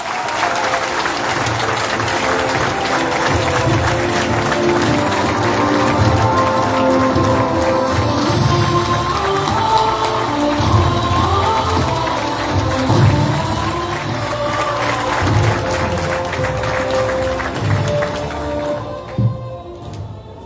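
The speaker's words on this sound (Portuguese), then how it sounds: "Uma grande salva de palmas para o Dr." A packed hall audience at a campaign presentation event in Vizela applauds Dr. Fernando Carvalho, with loud, dense, sustained clapping and crowd noise that carries on for about twenty seconds before tapering slightly at the end.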